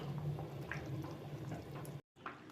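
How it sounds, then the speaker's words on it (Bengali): Fish curry broth with bottle gourd bubbling in a pot, a soft continuous simmer with small pops and gurgles, close by, briefly cut off before resuming. "এবার ঝোলটা বেশ 5 মিনিট মতন ফুটাবো, ঝোলটা না ফুটলে আমার স্বাদ আসবে না।"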